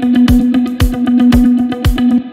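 Electric guitar played through a Guitar Rig Black Angus lead amp patch, loud and saturated, with a sustained distorted tone and sharp rhythmic picked accents repeating steadily, close and upfront, no talking.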